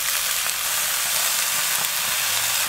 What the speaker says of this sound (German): dann können wir schon die Tomaten und die Zwiebeln dazugeben